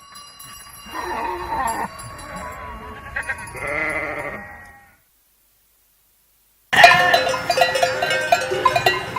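Sheep bleat in a mountain pasture as the flock is brought into a pen, several close calls with pauses, then a burst of clinking livestock bells toward the end.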